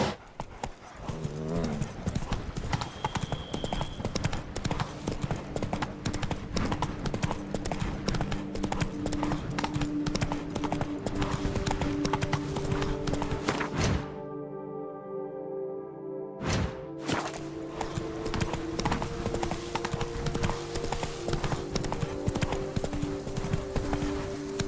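Steady clip-clop of the horse Roach's hooves in The Witcher 3, a loud continuous galloping rhythm with a short break near the middle and an occasional snort, no talk over it.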